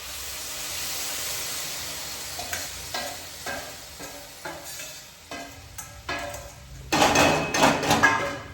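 Eggplant fries in oil in a pan, with a soft steady sizzle and a series of spatula taps and scrapes against the pan, then a louder burst of crackling near the end.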